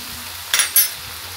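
Potatoes stirred in a frying pan with poppy seeds added, two short bursts of scraping and sizzle over a quiet low background.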